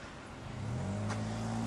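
A 2003 Chevrolet Monte Carlo SS pulls away, its engine note rising steadily as it accelerates, the drone growing louder and close by.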